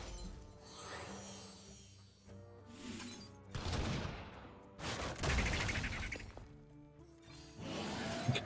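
Hunter card Quick Shot played in Hearthstone, a sharp game sound effect with a crash-like shattering burst followed by further impact bursts, loud over background game music, with no talking.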